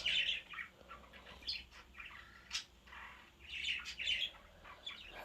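Small birds chirp and tweet in scattered bursts in PUBG Mobile, fairly faint, over a low steady background hum.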